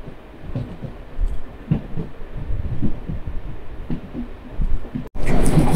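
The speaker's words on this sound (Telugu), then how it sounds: "మన ట్రైన్ అయితే బ్యూటిఫుల్ టర్నింగ్ అయితే తీసుకుంటుంది." A MEMU passenger train on the run between Bhimavaram Junction and Narasapur rumbles steadily while taking a curve, with low rhythmic wheel knocks under continuous noise, ending in a brief dropout and louder burst.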